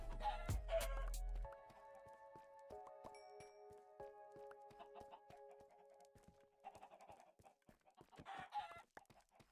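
Minecraft chickens cluck in short, sparse bursts over a quiet game backdrop, with a faint sustained musical tone and a louder burst of clucking near the end.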